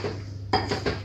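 Flour batter mixed in a bowl for a baked curd cake, heard as a quiet scrape followed by a few quick clinks of a utensil against the bowl, close and with no talking.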